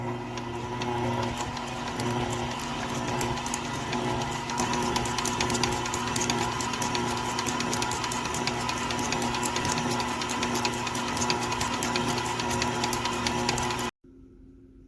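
An electric mixer beats icing sugar into coffee mocha cookie dough. It runs at a steady, whirring hum for about fourteen seconds, then cuts off abruptly.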